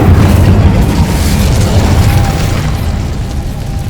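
Incendio fire spell cast in the Hogwarts Legacy video game, a loud booming burst of flame that roars at once and slowly fades over a few seconds.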